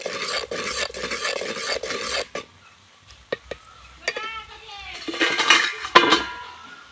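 Kashmiri chili and whole garlic being stirred into oil in a clay pot: intermittent scraping and clinking of the spoon against the pot, busier at the start and end with a quieter stretch in between.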